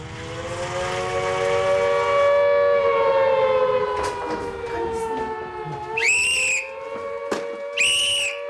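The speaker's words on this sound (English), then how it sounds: "I'm about to sound this air raid siren" A loud, steady air raid siren wails with a slowly sinking pitch, joined by sharp high whistle blasts near the end.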